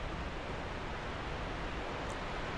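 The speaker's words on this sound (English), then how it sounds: "I hear the waterfall." A waterfall in Dark Souls 2: Scholar of the First Sin at Earthen Peak pours as a steady, dense roar of rushing water that stays constant and fairly close throughout, with no breaks.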